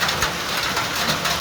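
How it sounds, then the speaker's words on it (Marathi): Heavy rain with a hailstorm pouring down in Sangli district, a loud, dense, continuous roar of drops and hail on surfaces, close by and steady throughout with no talking. "सांगली जिल्ह्यामध्ये आज तुफान असा पाऊस पडलेला आहे। गारांचा पाऊस पडलेला आहे।"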